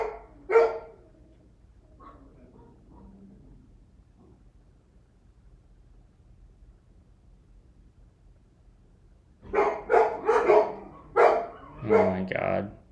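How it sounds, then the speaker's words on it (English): Dogs in a house bark: one sharp bark at the start, then a quiet lull with faint murmuring, and finally a loud, rapid run of close barks near the end. "Sorry for the dogs barking, chat."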